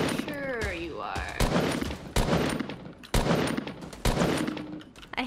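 Fortnite fight gunfire sounds as loud, heavy shots spaced about a second apart, with rattling bursts between them, while players talk over the shooting.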